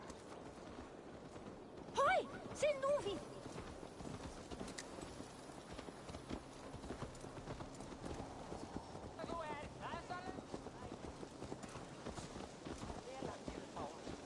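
Horse hooves clip-clopping in Assassin's Creed Valhalla, a steady soft rhythm running under game ambience with brief shouted voices near the start.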